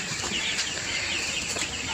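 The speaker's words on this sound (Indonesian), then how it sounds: "Oke, kita melihat ayam broiler." Week-old broiler chickens on a poultry farm cluck and chirp in a dense, continuous flock chatter, with some wing flutter mixed into the steady noise.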